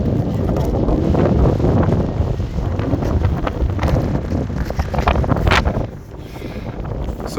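Wind on a winter mountain walk in Glenshee, Scotland: strong, steady gusts buffet the microphone with a loud rumbling roar, easing briefly near the end before picking up again.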